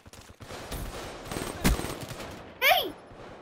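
Call of Duty Black Ops 3 gunfire comes as a few scattered shots and a short burst within a noisy game mix, with brief sound effects around them.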